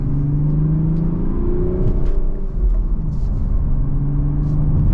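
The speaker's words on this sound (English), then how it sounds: "And just a mild acceleration." A 2025 BMW Z4 M40i with manual gearbox pulls in second gear under mild throttle, its engine a steady, smooth mid-pitched drone with a gently rising tone, heard from inside the cabin without speech.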